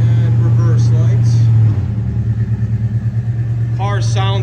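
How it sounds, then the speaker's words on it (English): A 1972 Dodge Charger with a 318 small-block V8 idles close by with a deep, steady rumble that settles into a lumpy, pulsing beat partway through, while people talk briefly over it. "Car sounds amazing for being a 318 small block."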